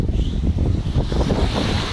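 Steady rush of sea waves and gusting wind on the Gulf of Riga shore at Vecāķi, loud and continuous with wind buffeting the microphone.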